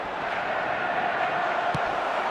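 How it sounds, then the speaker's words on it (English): A stadium crowd in the eFootball game roars in a steady, dense wash of massed voices, loud and continuous throughout with no breaks. "the crowd level has gone up a notch or 10"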